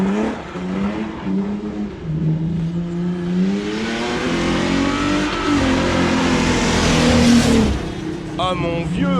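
A BMW 320i E36 drift car revving hard, the engine note climbing and holding high before falling away as the car brakes, loud and close, with someone talking over the engine.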